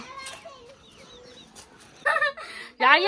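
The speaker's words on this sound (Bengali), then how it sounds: "এখানে মুরগি আসলো কিভাবে" Hens cluck in short scattered bursts, growing louder toward the end, with a voice and other talk in the background.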